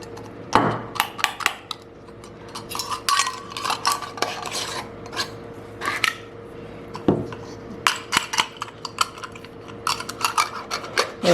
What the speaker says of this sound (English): I'm being cautious how I screw these lids on.